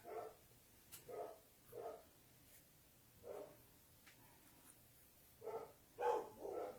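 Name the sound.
dogs barking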